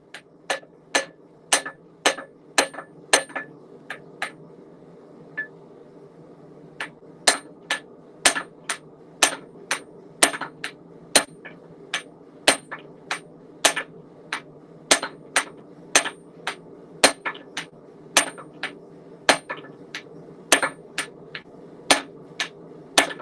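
A hammer striking a hand-forged hammerhead to knock a loose piece back into place, sharp ringing metallic blows in quick bursts separated by short pauses, loud and close, repeated steadily for over twenty seconds.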